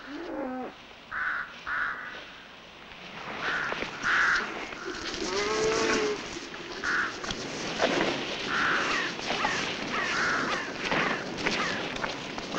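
Crows caw repeatedly near cattle on a farm, harsh calls in uneven bursts with an occasional low moo underneath, moderately close in open air.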